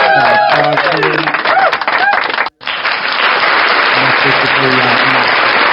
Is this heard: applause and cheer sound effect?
yes